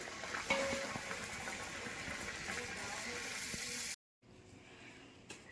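Food frying in a home kitchen for dinner, a steady broad hiss and sizzle that cuts out abruptly, then resumes more faintly.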